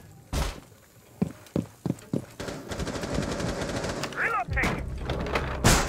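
Gunfire strikes a wall in Rainbow Six Siege: a few loud separate shots give way to a rapid burst of fire with thuds and clattering impacts, and a short voice cuts in near the end.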